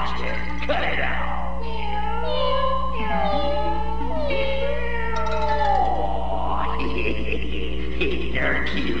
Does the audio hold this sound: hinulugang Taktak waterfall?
no